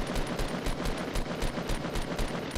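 Rapid gunfire in Fortnite, including scoped assault rifle shots, rattles in quick, evenly spaced bursts at close range, loud and steady with no talk over it.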